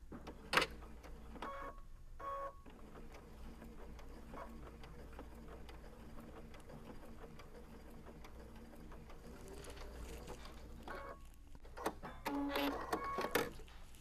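A sewing machine top stitches a fabric tablet case, running in a steady mechanical whir for most of the stretch with brief pauses and a few clicks near the start and end, fairly quiet and close.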